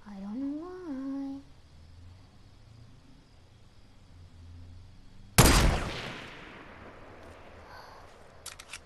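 A single sharp, loud blast bursts out in a video game and decays into a long rumbling tail, following a quiet stretch that opens with a short sung or hummed voice, with faint crackles near the end.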